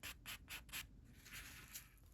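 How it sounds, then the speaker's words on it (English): Sanding a silver clay ring band by hand, four quick rhythmic scratchy strokes followed by softer, steadier rubbing, close and quiet. "So I'm going to do some sanding on the ring band."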